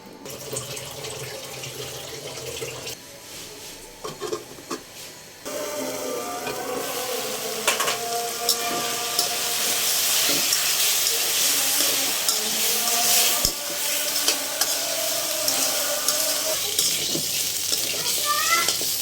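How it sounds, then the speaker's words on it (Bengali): Chicken fries in oil in a pan on the stove, giving a steady, loud crackling sizzle that runs nearly throughout, softer for the first few seconds before settling into a dense hiss. "আমার মুরগিটা ভাজা ভাজা হয়ে গেছে"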